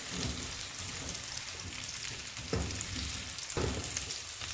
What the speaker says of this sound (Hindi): बस हमने इतनी देर कुक करना है, अंडे हमारे पक जाए और सब्जियां थोड़ी सी नरम हो जाए